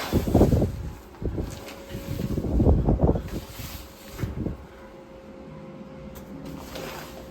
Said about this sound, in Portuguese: Ó o baita vento, filho.